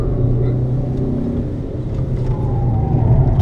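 A Fiat Grande Punto on the Le Cave race track in Vittorio Veneto drones with a steady, loud engine rumble heard from inside the car, holding an even pitch throughout.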